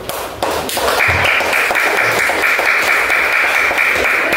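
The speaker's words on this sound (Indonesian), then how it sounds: "Ya, tepuk tangan untuk Kamil dulu." Children applauding in a classroom, a dense burst of many small hands clapping that starts suddenly and keeps going loud and steady, with a few louder thumps mixed in.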